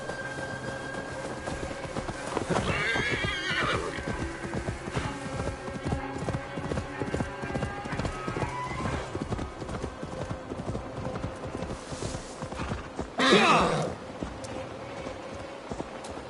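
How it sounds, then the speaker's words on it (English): Steady clip-clopping horse hooves in a video game trot along with a faint rumbling backdrop, and a brief louder whoosh rises near the end. "Now to deliver Magni his horse."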